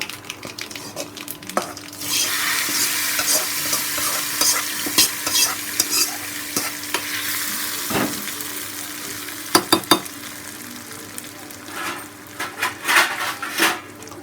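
Chickpea and bottle gourd kootu frying in a pan, an ongoing sizzle with a ladle stirring and scraping, and several sharp metallic knocks near the end.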